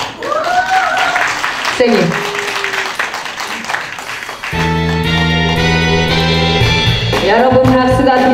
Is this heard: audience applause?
yes